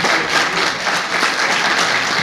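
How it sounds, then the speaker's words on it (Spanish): A crowd applauding at a tribute ceremony for a sculptor in a culture house, dense and continuous clapping close by, brief and steady without pause. "lo recibo con un aplauso"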